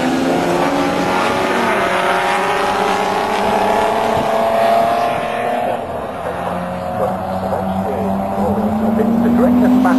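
Jaguar XJS race cars screaming around Snetterton circuit during a Toyo Tyres XJS Championship race, loud engine notes rising and falling as cars pass close, with a commentator talking over the continuous roar.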